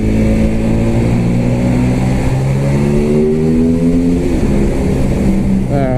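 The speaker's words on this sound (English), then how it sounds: "It's got that sweet Ducati V-twin vibe" A 2016 Ducati X Diavel S V-twin motorcycle engine cruising through a tunnel, a steady loud rumbling drone with shifting harmonic pitch, rising briefly near the end as the throttle opens.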